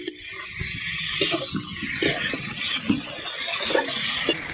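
Okra and potato curry stirred gently in a pan after salting, with a low sizzle under soft scraping and shuffling strokes of a spatula, close and moderate in level, no voices.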